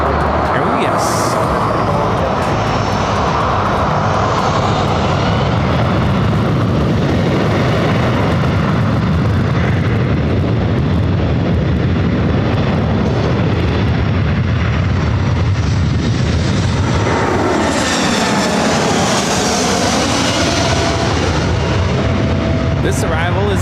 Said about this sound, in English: Takeoff was United Airlines 2449, taking off to Las Vegas on the 737-800.